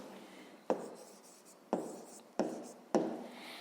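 Pen or pencil writing a math answer on paper, heard as four sharp taps or strokes at irregular intervals, each followed by short scratchy writing, close and fairly quiet, with no voices.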